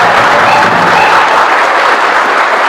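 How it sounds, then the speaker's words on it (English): Loud, dense applause with possible cheering from the audience at an Indigenous student graduation ceremony, a steady roar that holds throughout. "Let's give all of our graduates another round of applause."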